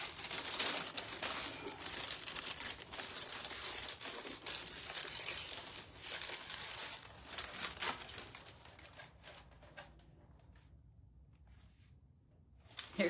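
Paper ripped around the center of a craft book, a steady stream of crinkling and tearing close up that runs for about ten seconds, then thins out into near quiet.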